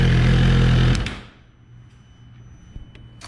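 A new Suzuki GSX-R 1000R runs loud and close at a steady idle during its first heat cycle, then shuts off within a second, leaving a quiet space with a few faint clicks.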